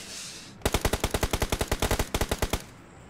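Rapid automatic gunfire in a battle royale video game: about twenty sharp, evenly spaced shots in two quick bursts with a brief gap, loud and close, with no talking.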